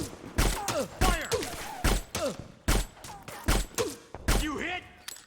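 Repeated gunfire bursts from Metal Gear Solid 4: Guns of the Patriots, roughly six sharp shots at about one-second intervals, loud and close, with voices calling out during the firefight.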